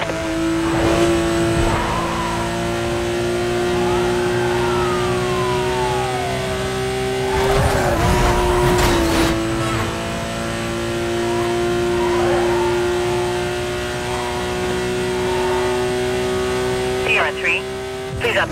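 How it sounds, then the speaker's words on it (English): A car speeds past, chased by police in Need for Speed: Most Wanted (2005), its engine droning loudly and rising and falling over a steady siren wail, with brief tire squeals. "Vehicle just blew by."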